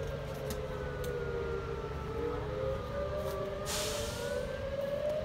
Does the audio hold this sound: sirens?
yes